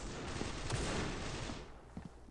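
Dense burst of rifle fire from the mobile shooter Critical Ops, several close sharp shots packed together for about a second and a half, then trailing off into a few fainter, isolated cracks.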